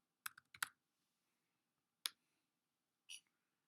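Keys clack on a Mac keyboard as a Wi-Fi password is typed: a quick burst of four or five sharp taps, then a lone tap after a pause and a final softer click, close and isolated in a quiet room.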